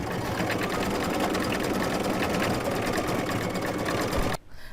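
A home embroidery machine stitches continuously, a fast dense mechanical chatter that runs steadily and close, then stops abruptly near the end.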